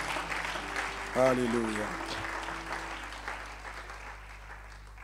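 A church congregation applauds and cheers in praise during a French-language worship service, a broad steady clapping wash under a sung exclamation, with the crowd noise continuing at a fairly even level.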